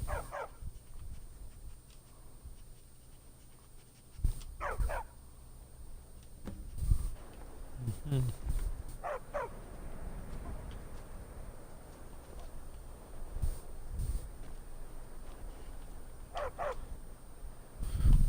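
Faint, sporadic dog barks and whimpers from a bruised, injured dog in the video game Skyrim, several short yips spaced out over quiet ambient background.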